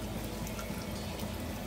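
Water pours steadily into a pot while one-pot tuna pasta is being made, a continuous close, moderately loud splashing stream without talk.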